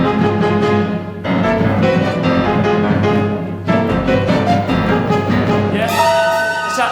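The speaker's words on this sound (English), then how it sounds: "And then you get kind of stabby type horror music." Orchestral horror music with stabbing string chords, loud and dense, broken into sharp bursts with brief pauses between them, ending on a high shrill chord.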